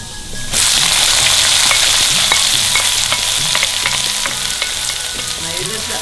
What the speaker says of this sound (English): Now you let the onions fry till it's golden brown